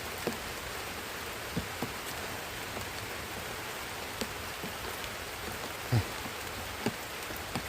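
Steady rain patters on a surface, a soft continuous hiss with occasional louder drops landing nearby.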